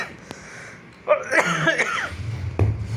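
A person coughs a few times in a close, harsh burst, followed by a short rumble of movement nearby.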